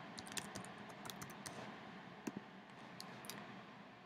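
Password being typed on a computer keyboard: quick, soft, irregular key clicks in short bursts, close and quiet over faint room hum, no voices.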